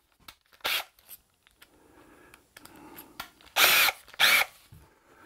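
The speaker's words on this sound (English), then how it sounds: "pre-drill" A power drill pre-drills holes in wood for a camper kitchen drawer cabinet, with short whirring bursts starting and stopping, the last two louder and longer, and light handling noises between them.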